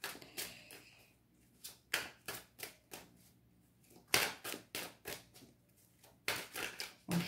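Tarot cards shuffled by hand at close range, giving a run of crisp, papery riffling bursts in an uneven rhythm with short pauses between them.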